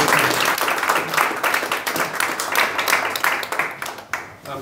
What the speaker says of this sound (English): Any more questions for Scott before we give him a round of applause?